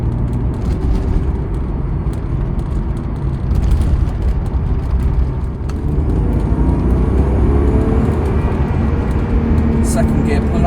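A BMW E36 pulls hard in second gear at around 50 mph, its engine a loud, sustained roar rising in pitch with road and wind noise, close and continuous throughout.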